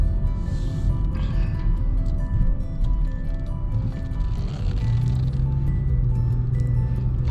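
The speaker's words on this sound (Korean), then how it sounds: "제가 여기에서 시운전하고 마무리 하는 걸로 할게요." A used Kia K5 on a test drive, heard from inside as a steady low road and engine rumble with faint rattles, and a low hum rising slightly toward the end.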